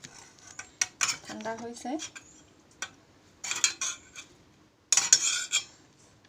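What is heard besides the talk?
utensil scraping cooked greens onto a plate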